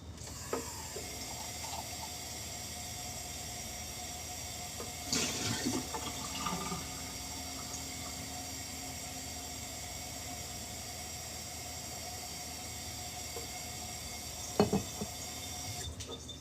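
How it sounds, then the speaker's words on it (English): A kitchen tap runs in a soft, steady stream while a milk frother is rinsed under it, quiet and continuous, with a few faint clinks and splashes. "she wakes up from the water when I wash the frother"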